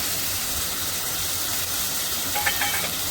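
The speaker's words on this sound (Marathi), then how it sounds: "आता मी ह्यात घालणार आहे टमाटर" Tomatoes dropped into hot oil for Kolhapur-style mutton mundi masala, giving a steady broadband sizzle and hiss that stays even throughout, with a few small pops near the end and no talking.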